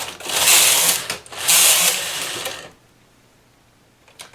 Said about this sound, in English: then I bring in my lace carriage and do the transfer